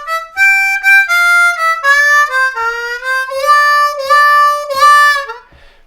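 A C harmonica plays a solo blues lick, with bent and wavering reedy notes in short phrases that slide between pitches and end in a fading held tone.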